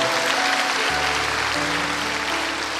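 A church congregation claps together in loud, dense applause that holds steady throughout, with a sustained musical tone entering underneath.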